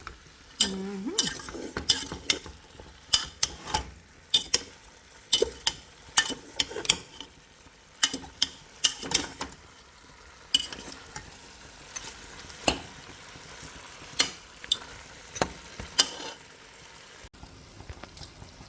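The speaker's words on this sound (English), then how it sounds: "Stir up this to see what going down the bottom there." Oxtail browns in a pot for Jamaican oxtail, a low background sizzle under a long run of sharp, irregular spoon knocks and scrapes against the pot.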